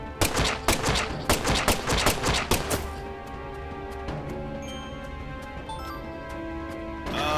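Rapid bursts of gunfire from the video game Deadly Premonition 2 crack out for about three seconds in a dense volley, then stop, leaving sparse clicks and a droning game tone, with no talking.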